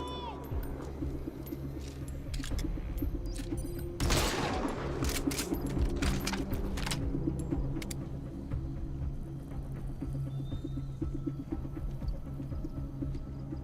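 Gunshots from a gun with a worn-out suppressor in Metal Gear Solid V ring out loud, with a heavy blast followed by a string of sharp shots and clatter amid ambient game sounds and some talk.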